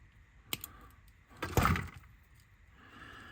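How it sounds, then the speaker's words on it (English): A roll cage part for a Tamiya 4x4 mini Jeep K4 Gambol kit is snipped from its plastic sprue: a sharp click, then a louder crunching cut, close and alone. "I'll just cut that off the sprue."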